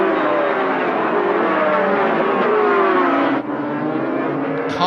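Two-stroke 500cc Grand Prix racing motorcycles at Phillip Island, running flat out in a loud, continuous high-pitched engine wail with shifting revs, close and sustained throughout with no talk over it.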